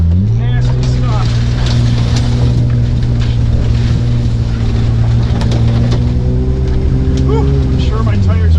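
A vehicle engine laboring on a deep, muddy off-road trail with its tires buried: a loud, steady droning roar that climbs in pitch near the end, while someone talks over it.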